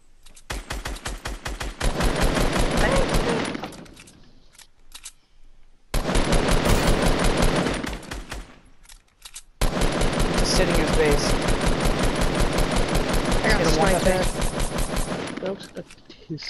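Rapid automatic gunfire in a shooter video game rattles in three long, evenly clicking bursts separated by short pauses, loud and close, with players talking over it.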